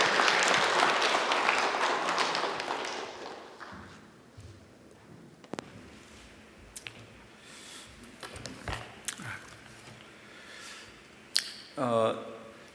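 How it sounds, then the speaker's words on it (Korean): A church congregation applauds to welcome a missionary at an evening service, a loud burst of clapping that fades over a few seconds into quiet hall noise with scattered thumps and a brief voice. "우리 박수로 한번 환영합니다."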